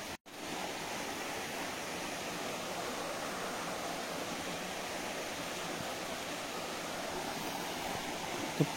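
Water pouring steadily down Machakandana waterfall in Mayurbhanj, a continuous broadband rush heard close and alone, without pause.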